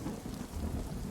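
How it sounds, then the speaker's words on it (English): Heavy rain pours down in a stormy forest while thunder rumbles low and continuous, a dense wash of falling water with a steady roll beneath, fairly faint and without voices. "More thunder, lightning, the rain still just as heavy"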